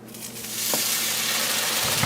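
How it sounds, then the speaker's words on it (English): Vegan French toast sizzles and fries in a hot pan, a steady loud hiss throughout with a few faint scrapes, no voices. "You hear that sizzle."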